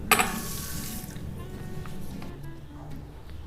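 Water, a little hotter than lukewarm, poured in a short splash from a tablespoon into sugar and coffee for a homemade cappuccino, a brief wet burst at the start fading into low background noise.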